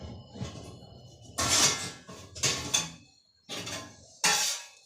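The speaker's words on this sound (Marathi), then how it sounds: "मी पटपट पटपट भांडी आवरून घेते आता" Dishes are scrubbed and handled in a home kitchen, with several bursts of clattering and rinsing water separated by short pauses, close and moderately loud.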